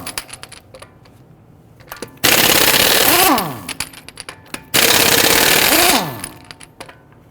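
Two loud, close bursts from an impact wrench with a 22mm socket loosen lug nuts on a 2011-2023 Dodge Charger 3.6L V6 front wheel, each about a second long and ending in a falling whine, with clinks between them.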